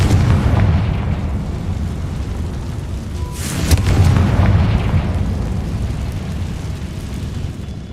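A Confringo fire spell bursts in the video game Hogwarts Legacy, a loud rumbling explosion swelling midway over a steady low roar, with no voices.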